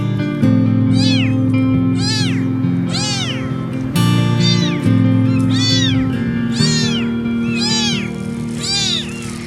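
Several abandoned baby kittens found on the street cry and meow in loud, repeated high-pitched calls, overlapping one another close by, with no talking.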